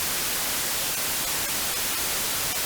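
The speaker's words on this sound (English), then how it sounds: "Remember our old friend white noise?" Steady, uniform white noise: a continuous, loud, hissy static that stays unchanged from start to finish.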